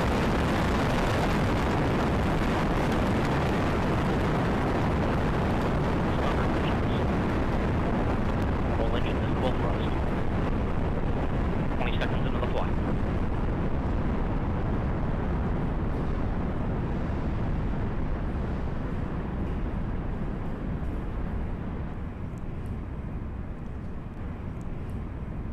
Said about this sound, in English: we have liftoff of the United Launch Alliance Delta IV Heavy Rocket carrying the NRO L-65 mission to the National Reconnaissance Office